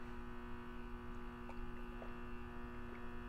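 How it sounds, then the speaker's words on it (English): A sprinkler system pump drones outside the room with a steady, unchanging hum and faint tonal whine, continuous and moderately loud, with a few soft clicks over it. "So it's the pump for the sprinklers"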